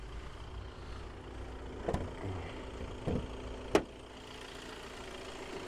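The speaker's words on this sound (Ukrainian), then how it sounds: "Працює двигун абсолютно ідеально, немає жодних зауважень." The 2.0 TDI diesel in a 2017 Audi A4 B9 idles under the open bonnet, a quiet, even low drone with faint tonal whine, broken by a few brief clicks and knocks.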